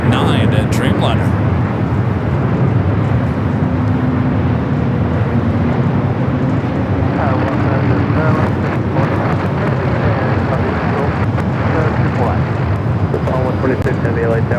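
An All Nippon Airways Boeing 787-9 Dreamliner from Tokyo Haneda lands at LAX, its loud continuous engine rumble filling the scene while radio chatter and voices carry over the top.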